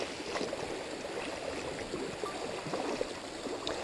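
A rocky-bottomed mountain stream at Terrapin Creek in South Pedlar, Virginia, rushes in a steady, close, full wash of water with soft gurgles throughout. No voices are heard over it.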